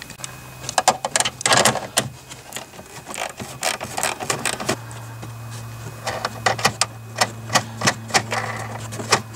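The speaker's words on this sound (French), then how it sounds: "Il faut le dévisser avec une clé de 10." A 10 mm wrench unscrews a bolt on a Peugeot 207 rear light housing, with a series of sharp, close metallic clicks and ratcheting taps in uneven bursts over a low hum.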